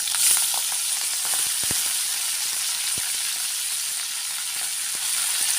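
Fenugreek leaves (methi) sizzle and fry in a hot pan with garlic and chilli, a steady close hiss of oil running throughout with occasional soft crackles and pops, no voices.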